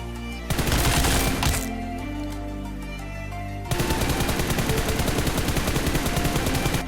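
Automatic gunfire in PUBG Mobile comes in a short burst, then after a pause a long continuous spray of rapid shots, loud and close, with no talking.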